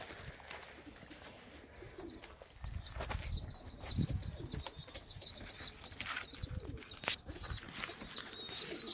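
Tumbler pigeons with chicks in a loft: soft close cooing, a run of chirps and scattered wing flaps and rustles over a low background, steady and fairly quiet throughout.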